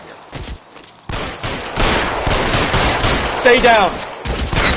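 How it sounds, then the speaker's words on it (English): Rapid machine gun fire from a shooter bursts out loud and sustained after a brief lull, mixed with shouting voices in a tense firefight. "Shooter has a machine gun."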